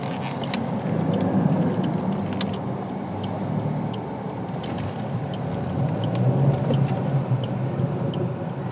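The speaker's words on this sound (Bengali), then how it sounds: "একবারে কিন্তু গাড়িটা ঘুরে গেল" A 2022 Maruti Suzuki Swift ZXI Plus Dual Tone swings through a U-turn on a busy road, its engine and tyre noise a steady, fairly loud rumble throughout with no talking.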